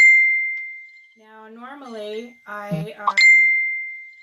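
A phone notification chimes with a sustained bell-like ding at the start and again at the end, a person speaking briefly between the two tones.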